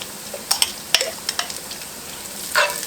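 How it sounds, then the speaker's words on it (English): Sun-dried tomatoes from a jar go into a hot pan with sizzling oil, giving a few sharp clinks and spoon stirs, bursts of crackle and a soft sizzle swell near the end, with no talk. "Now I'm going to add in about 4 ounces of sun-dried tomatoes"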